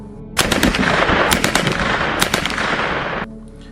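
Rapid bursts of loud gunfire crackle in quick succession, several volleys of sharp shots over a noisy background, then stopping abruptly.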